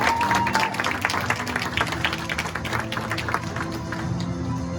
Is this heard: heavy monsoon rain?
no